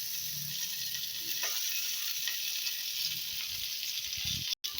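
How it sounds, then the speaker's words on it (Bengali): Potato and eggplant pieces fry with green chili in a pan, giving a steady, quiet sizzle with faint stirring scrapes and a brief click near the end. "আমার আলু বেগুনটা অনেকটা ভাজা হয়ে গেছে, আর একটু ভাজা ভাজা হবে।"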